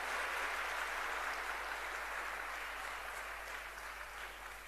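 A crowd at a political rally in Punjab applauds in welcome, making a faint, distant, continuous wash of clapping that fades slightly toward the end.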